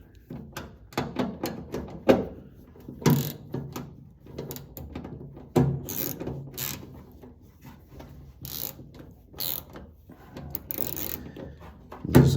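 A self-tapping screw is driven up through the floor of a 1973 Mustang beneath the seat pan, heard as a series of close, intermittent mechanical clicks, grinding bursts and ratcheting knocks spread across the clip with quiet gaps between them.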